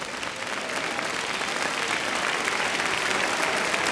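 A church congregation applauds during a worship service, a dense, even wash of clapping from many hands that holds steady and loud throughout.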